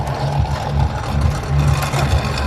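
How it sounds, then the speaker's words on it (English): Ford 5-liter V8 engine fitted in a golf cart at a car show, a loud, steady low rumble with a pulsing idle, close by and alone. "fastest golf cart I've ever seen. 5-liter V8."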